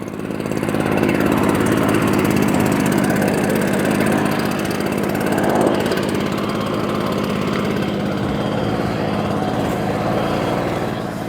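A ROTAKT 3WF-600 atomizer sprayer with a 3.4 hp engine runs steadily and loudly in an orchard. The drone holds constant throughout and no clear talk is heard over it.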